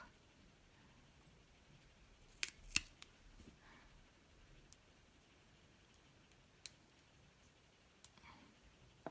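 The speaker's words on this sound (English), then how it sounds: "I'm gonna cut these now" Scissors snipping off succulent rosettes of echeveria and ghost plant (Graptopetalum paraguayense) indoors: a few faint, sharp clicks, a close pair and then scattered single snips, against near silence.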